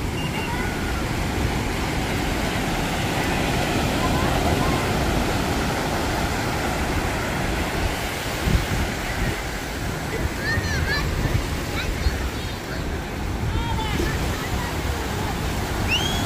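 Ocean waves break and wash continuously at Bondi Beach, Sydney, a loud, broad surf roar with wind noise and faint distant shouts and voices throughout.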